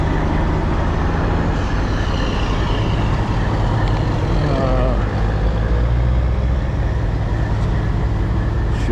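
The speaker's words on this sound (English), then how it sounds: "I'm gonna have to move my truck and bring my back end over here" A pickup truck engine runs steadily as the truck is repositioned on a roadside fuel call, a dense continuous rumble with a faint voice briefly audible.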